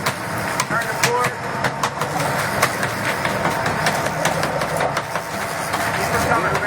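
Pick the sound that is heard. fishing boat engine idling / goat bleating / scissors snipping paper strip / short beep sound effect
fishing boat engine idling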